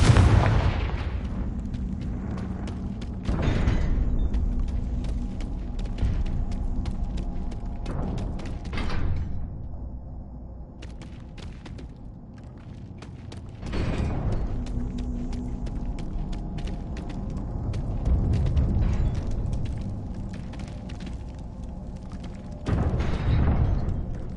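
Confringo blasting spell from the Hogwarts Legacy game erupting in repeated booming explosions, several heavy blasts spread over the span with crackling debris tails and softer rumbling action between them.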